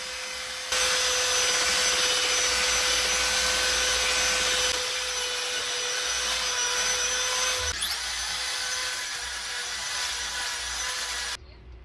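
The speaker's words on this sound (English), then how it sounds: "So we're conditioning the wood right now, getting all the extra residue off the neck, rubbing this into" A continuous loud, steady whirring drone, like a machine running close by, lasts about eleven seconds in a guitar shop where the neck wood of a 2018 Gibson ES-275 is being conditioned. It shifts slightly partway through and then stops abruptly.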